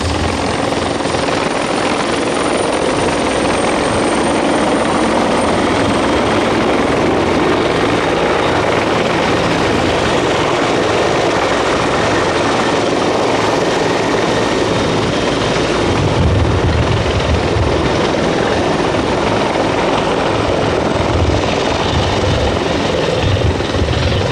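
A Bell 412 helicopter flies close by during a multinational military exercise, its rotor and engine making a loud, continuous thudding roar that stays steady throughout.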